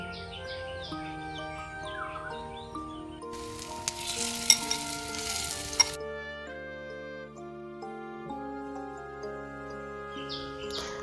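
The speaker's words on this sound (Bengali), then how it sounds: "এবার ওই ব্যাটারের মধ্যে ডুবিয়ে ডুবিয়ে ভালো করে লাল করে ভেজে নিচ্ছি" Batter-coated soybean chunks deep frying in oil, a steady sizzle that swells for a few seconds under continuous background music.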